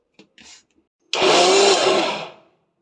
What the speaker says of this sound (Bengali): প্রথমে আমি ডালটা বেটে নেব, সামান্য জল দেব